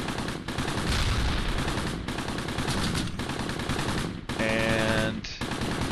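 Machine gun fire in the Close Combat World War II strategy game, sustained loud bursts broken by short pauses, with a tonal engine-like hum in one gap.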